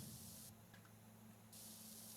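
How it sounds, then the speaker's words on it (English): A pressure washer in the video game PowerWash Simulator 2 sprays soap off with a steady loud hiss that stops for about a second and then resumes. "me spray this soap off"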